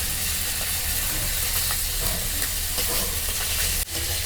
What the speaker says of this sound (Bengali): মশমশা করে কই মাছ ভাজা নিতেছি